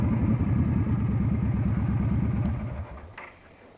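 A Yamaha Stryker motorcycle's engine chugs close by in a rapid pulsing rhythm, then quickly fades and drops away as the bike pulls over and slows.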